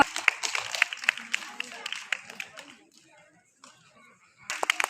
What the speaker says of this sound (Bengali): সো মাচ একটা জোরে হাততালির সাথে আমি ওনাকে ওয়েলকাম করি